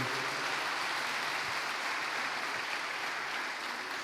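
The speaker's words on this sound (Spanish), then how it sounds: "Denle un fuerte aplauso, porque eso es lo que va a ser el día de hoy." A church congregation applauds in a dense, continuous wash of clapping that holds steady at an even level throughout, with no voices breaking through.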